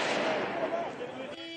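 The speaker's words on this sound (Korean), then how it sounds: "시위대가 경찰을 겨냥해 쏜 폭죽이 경찰 머리 위에서 연이어 터집니다." Firecrackers fired by protesters at police during riots in Paris, France, burst in quick succession overhead, crackling and popping as a dense, loud barrage with crowd noise mixed in.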